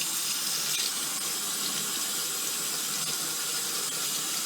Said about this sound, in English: Now be sure that you rinse these really good to get the soap out.